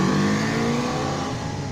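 A Yamaha 750 XM motorcycle, lightly modified with used parts, holds a steady loud engine drone up close, its tone shifting slightly with revs and no voices over it.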